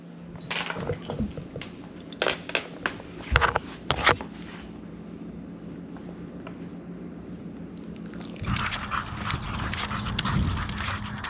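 Dogs pant close by, mixed with sharp metallic clinks and jingles that come in brief bursts before a softer, steady background.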